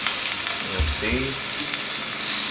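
Crayfish frying in herby garlic butter in a pan, a steady close sizzle and crackle throughout, with brief low stirring sounds and a voice speaking over it.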